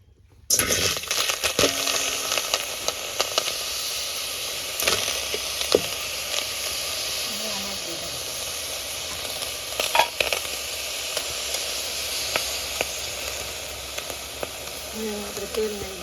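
Eggplant curry for a village meal sizzling in frying oil in a pan, a dense steady hiss from start to finish with occasional clinks and stirring scrapes, faint voices in the background.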